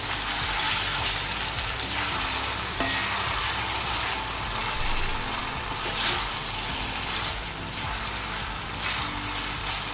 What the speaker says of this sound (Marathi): आता यात आपण हे मॅरिनेट केलेलं चिकन टाकूया चिकन टाकलेलं आहे आपण याला परतून घेऊ